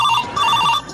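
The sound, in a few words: phone ringing during a call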